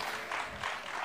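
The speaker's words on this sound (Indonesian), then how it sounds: "Tepuk tangan sekali lagi yang meriah dong untuk ketiga narasumber kita." Brief burst of audience applause at an Indonesian culinary seminar on spices, a crowd clapping together for the panel speakers, moderately distant and lasting about a second.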